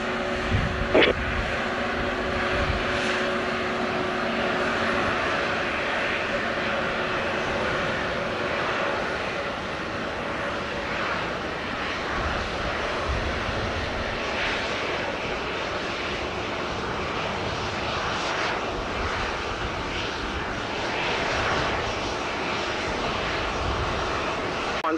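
A plane taking off at Montego Bay airport produces a sustained engine roar that holds steady throughout, with faint radio chatter now and then.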